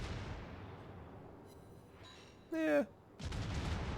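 An Iowa battleship's guns fire in World of Warships, a deep rumbling boom rolling out near the end after a quiet stretch, with a brief whistling shell sound just before it and a speaking voice.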